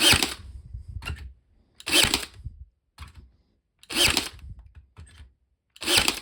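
A BAUER 20V cordless 18 gauge stapler fires four loud, sharp bursts into a fence outdoors, about two seconds apart, each with a short low thump after it and no talking.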